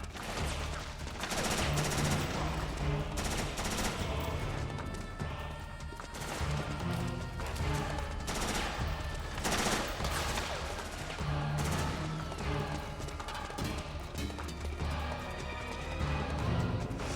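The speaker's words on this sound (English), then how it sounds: "what are you guys shooting at?" Dense gunfire fills a Metal Gear Solid 4: Guns of the Patriots firefight, rapid bursts and single shots cracking over one another almost without pause, loud and close, with a few heavier crashes mixed in.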